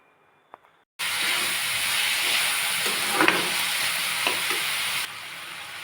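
Bitter gourd sautéing with onions in a pan, a near silence with a small tap, then a sudden loud continuous sizzle with a few stirring knocks before it drops slightly quieter.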